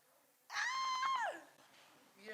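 A cat gives one clear, drawn-out meow up close, rising then falling in pitch, followed by quiet room sound and the start of a faint second call.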